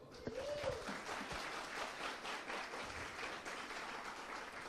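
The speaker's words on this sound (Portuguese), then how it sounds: "Pode aplaudir mais uma vez." An audience applauds at a religious lecture about the Ark of the Covenant, a dense, steady wash of many hands clapping that fills the whole stretch without a break.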